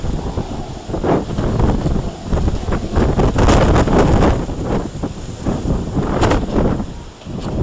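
Strong Hurricane Milton wind gusts along the Gulf coast buffet the microphone in loud, surging roars that rise and fall over several seconds, with no voices.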